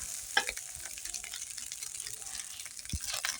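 Raw rice fries in a pan for chickpea khichuri. It gives a soft, steady sizzle with occasional scrapes and clinks from stirring, heard close and fairly faint.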